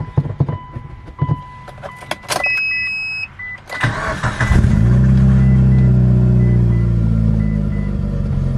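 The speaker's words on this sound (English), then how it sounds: "we are gonna start this car up and see how she runs" A Mitsubishi Lancer EVO 8 starts up: clicks and a brief whine from inside the car, then the engine cranks and catches around midway, settling into a loud, steady rumbling idle close by.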